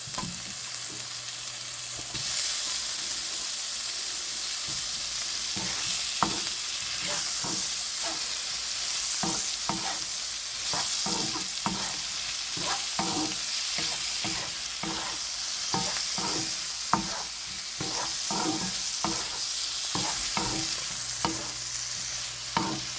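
Prawns and drumsticks sizzle and hiss steadily in a hot pan while a utensil stirs and scrapes against it in repeated strokes.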